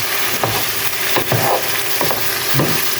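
Chicken gizzards and liver sizzle steadily in a pan for adobo, a constant close frying hiss broken by several soft scraping stirs at regular intervals.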